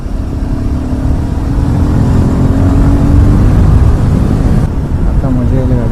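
Vehicle cruising on the NH66 highway along the Konkan coast, a loud steady engine drone with a held tone that dips and shifts briefly near the end, continuous and close throughout.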